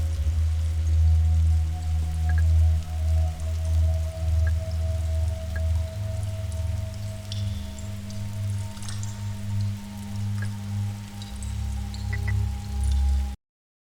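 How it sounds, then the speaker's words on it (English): Steady rain patters in the video game The Signifier, a dense continuous hiss with a low rumbling bed and occasional brighter drops, fairly loud and constant throughout with no talking. "Is that rain?"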